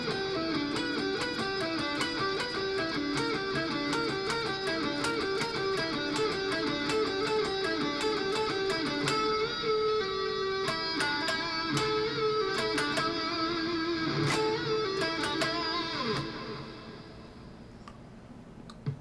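Electric guitar working slowly through a blues-rock shred lick with string bends, clear note-by-note phrasing at moderate volume for about sixteen seconds before fading to a quiet tail, no talking.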